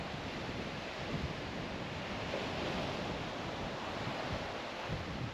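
Ocean waves break steadily on a beach near Mariyur in Ramanathapuram, a continuous loud wash of surf mixed with wind rumble on the microphone, with no voices heard.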